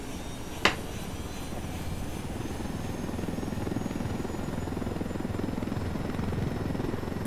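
Helicopter in the video game Ghost Recon Wildlands: a steady, close rotor thrum and engine drone runs throughout, with one sharp click near the start and no talking.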